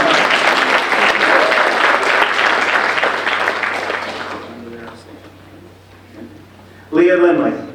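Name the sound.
audience clapping at awards ceremony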